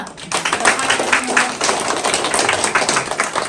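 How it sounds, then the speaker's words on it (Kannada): Audience at an ashram visit in Mangalore clapping hands together, a dense steady burst of many overlapping claps lasting the whole moment, with a few voices mixed in. "ಆದ ಕಾರಣ ನಿಮಗೆ ಸಂತೋಷ ಆದರೆ ಒಂದು ಚಪ್ಪಾಳೆ ತರ್ತೀರಾ?"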